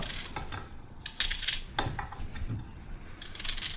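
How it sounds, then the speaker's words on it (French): A knife cutting onions into large quarters on a board, with sharp clicks and scraping taps in a short irregular run. "On va les couper en gros quartiers"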